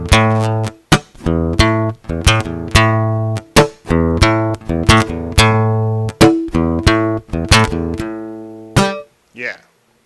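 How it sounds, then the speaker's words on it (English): A guitar plays a strummed beat in a Zoom guitar lesson, with rhythmic chord strums punctuated by sharp percussive snare-like slaps of the strings, loud and close, ending on a short fading hit. "the last step to this beat is to hit that snare sound"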